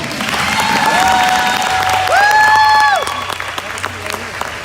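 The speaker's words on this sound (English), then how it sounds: "Now please give a big hand for Nicole Christie Wallston." A crowd claps steadily and loudly in a gym at a volleyball senior night, with the applause sustained under an announcer's amplified voice and faint cheers.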